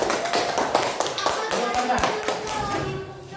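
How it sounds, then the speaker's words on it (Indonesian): Students in a classroom clap for a group that has just been praised, with a run of quick claps and taps close by and voices mixed in. "Kasih tepuk tangan semuanya."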